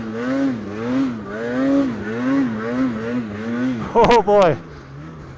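Polaris Khaos snowmobile with belt drive climbing a slope, its engine revving in rising and falling waves, loud and close, with a rider's voice speaking over it and two sharp high bursts near the end.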